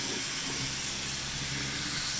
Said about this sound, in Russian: Тут у нас морковка тушится.